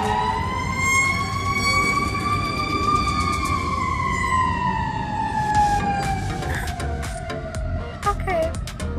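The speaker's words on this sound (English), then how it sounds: "there was just a fire truck that just rolled by very loud" A loud fire truck siren wails close by, its long tone slowly sliding lower as the vehicle passes, with traffic rumble underneath.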